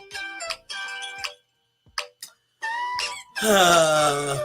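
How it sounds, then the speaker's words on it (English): A phone's ringtone sounds with an incoming call during a late-night chat stream, a melodic tone repeating in short bursts with gaps, then swelling into a louder, denser stretch at the end. "I don't want to decline because they can tell that I'm declining a phone call."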